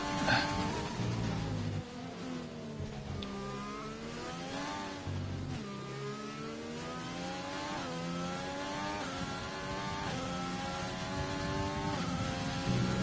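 McLaren Formula One car in F1 2020 accelerating hard, the engine note climbing through rising gear sweeps with shift drops, a steady, close onboard howl with no talk.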